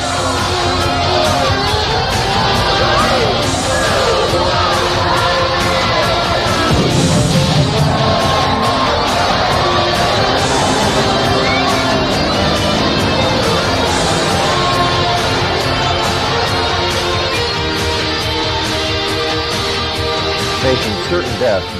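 A big crowd at Englishtown Raceway roars, cheers and applauds a stunt performer at a motorsport show, a loud, dense, sustained wash of noise that swells in places, with a voice heard over it.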